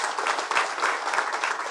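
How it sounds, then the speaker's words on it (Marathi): Crowd applause at an outdoor political party gathering in rainy weather, a short burst of fairly soft, steady clapping from many hands. "जयाभाऊंच्यासाठी जोरदार टाळ्या वाजवा"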